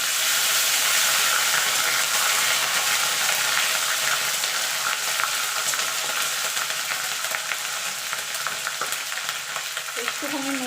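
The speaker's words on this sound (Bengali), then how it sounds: "আদাটা একটুখানি ভাজা ভাজা করে নেবে যতক্ষণ আদার কাঁচা গন্ধটা চলে না যাচ্ছে" Ginger and green chili paste fries in hot oil with whole garam masala and a bay leaf, a loud, steady close sizzle with occasional stirring scrapes, no talking.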